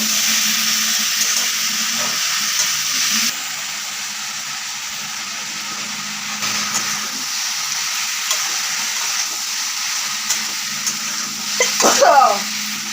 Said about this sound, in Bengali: এখন নুনটা দিলাম ভালো করে নাড়তে হবে